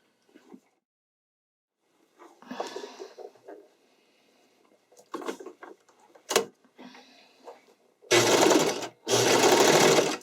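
Sewing machine stitching a skating dress skirt, two loud bursts of fast whirring stitching near the end, preceded by quieter handling rustles and clicks, close by.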